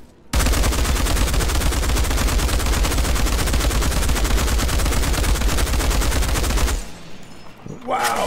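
Rapid automatic gunfire from a fully upgraded weapon in the Outriders video game, a loud, dense stream of rounds lasting about six seconds. It cuts off abruptly, followed by quieter game sounds and a short burst of speech.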